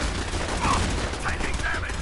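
Gunfire in Fallout 4, a dense run of overlapping shots and bursts, loud and continuous throughout, with faint voices mixed underneath.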